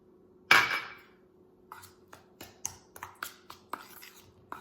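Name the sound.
mixing crumb crust with sugar and melted butter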